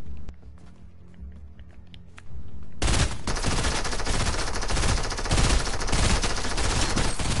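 Gunfire in a shooter video game, quiet footsteps and taps at first, then dense rapid automatic fire bursting in loudly and continuing without pause to the end.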